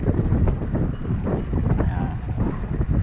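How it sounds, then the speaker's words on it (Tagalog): Wind at the seaside buffets the microphone in loud, continuous gusts, a low roaring rumble with no speech over it. "Tabing seaside nga pala to, kaya medyo mahangin."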